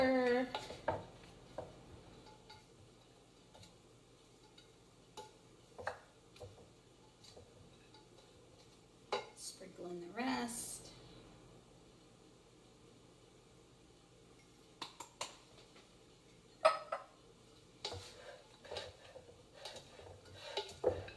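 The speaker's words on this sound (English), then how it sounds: "Give it a little stir." A carrot raisin salad being stirred in a bowl, heard as sparse, quiet clinks and scrapes of a spoon against the bowl separated by long near-silent gaps, with one longer rustling stir midway.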